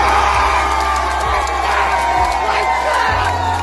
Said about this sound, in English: She suddenly had the entire crowd watching her, rooting for her to land it